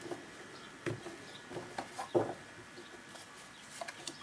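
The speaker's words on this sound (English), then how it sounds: "Birds are chirping outside." Faint bird calls come from outside, a few short clucking chirps scattered at a distance over a quiet indoor room tone.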